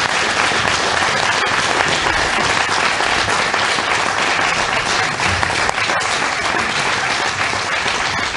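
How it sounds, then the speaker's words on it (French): After a lecture on myth and religion by Pierre Colombani, the audience breaks into loud, sustained applause, a dense and even roar of many hands clapping that holds steady throughout. "je pense qu'on peut très fort applaudir Pierre Colombani"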